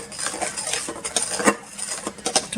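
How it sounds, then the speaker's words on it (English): Scone dough mixed with a knife in a bowl, giving close scraping and soft clinking taps in an uneven run without speech. "take back the knife again, and we mix this"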